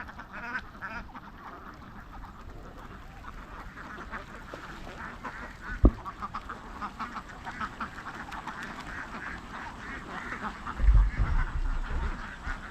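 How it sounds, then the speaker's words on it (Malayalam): Ducks climb ashore after feeding in the evening, soft quacking scattered over a low outdoor background, with a sharp knock midway and a louder burst of sound near the end. "ഈറ്റിയൊക്കെ തിന്നു കഴിഞ്ഞിട്ട് ഇങ്ങനെ വന്ന് കയറുകയാണ് താറാവ്"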